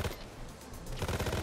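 FAMAS assault rifle in Payday 2 fires in rapid automatic bursts, close and loud, a rattling stream of shots with a short lull in the middle.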